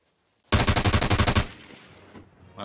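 Automatic gunfire in the America's Army video game: one loud, rapid burst of about a dozen evenly spaced shots lasting roughly a second, followed by a fading tail and quiet game ambience.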